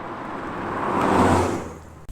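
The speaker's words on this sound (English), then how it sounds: "so we're gonna go drive my MR2 now." A Toyota MR2 SW20 car driving, a smooth engine and road hum that swells gradually to a peak and then fades, with a brief click at the end and no speech.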